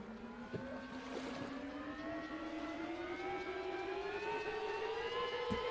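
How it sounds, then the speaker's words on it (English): A small propeller plane in a video game with a lawnmower-like engine runs steadily, its buzzing drone slowly rising in pitch as the engine revs up, loud and continuous with no talk. "this plane has like got a lawnmower engine"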